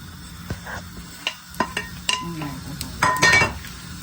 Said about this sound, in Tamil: சட்டியை வைப்போம் சட்டி காயட்டும் இப்போ வெங்காயத்தை போடுவோம்